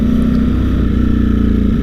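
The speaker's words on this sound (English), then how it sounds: "It's the best sounding motorcycle I've been on with a stock exhaust" Ducati Streetfighter V4S motorcycle engine with its stock exhaust, a loud, deep pulsing rumble held at a steady idle-like pace, close and alone.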